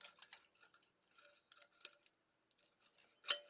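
Scissors snip at the back of an Easter wreath piece: a few sparse, dry clicks and short cutting sounds close by, with a louder sharp snip near the end and quiet gaps between.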